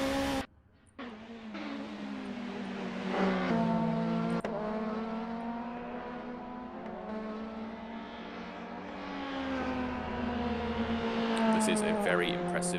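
An Alfa Romeo race car laps a circuit during qualifying, its engine whine climbing and falling through gear shifts at moderate distance, with a commentator talking over it.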